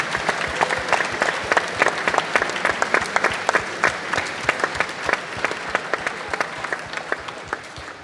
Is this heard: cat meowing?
no